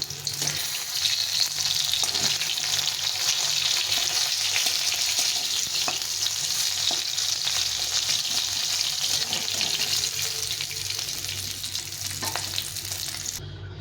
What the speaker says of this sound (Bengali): মাছগুলো ভাজা হয়ে গেছে, এখন লাল লাল করে ভেজে নিয়েছি